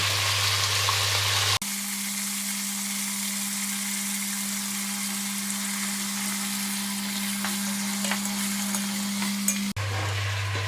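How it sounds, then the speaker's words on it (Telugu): Cashews and peanuts fry steadily in a pan with mustard seeds, a dense continuous sizzle with a low hum running underneath and no talking. "ఇవి వేపుకుంటున్నానండి ఎందుకంటే పొడి పొడిగా వస్తాయి"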